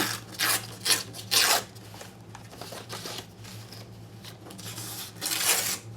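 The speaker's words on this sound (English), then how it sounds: "Just ripping off the white edge. You can hear me do it." Paper being torn by hand, the white edge ripped off a page for an altered-book craft project; several quick, dry rasping tears come close together near the start, then one more tear follows after a quieter pause.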